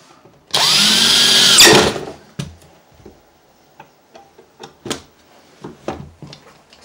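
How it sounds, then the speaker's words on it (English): A power drill drives a screw into backer board in one loud, steady whine lasting about a second, then a series of sharp clicks, taps and handling knocks. "Just keep your drill straight up and down."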